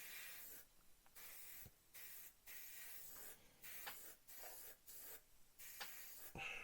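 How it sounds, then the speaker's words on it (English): An airbrush sprays paint under a Revell 1/32 He111 scale model in short hissing bursts with brief pauses between them, faint and close. "We'll just spray under there a little bit."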